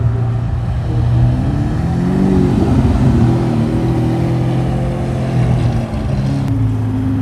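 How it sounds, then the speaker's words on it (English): An orange Lamborghini Aventador driving past at a Social Sundays car meet at The Rock at La Cantera, its engine a loud, steady drone that swells briefly as it passes close. "Oh boys, we got that nice orange Aventador coming through."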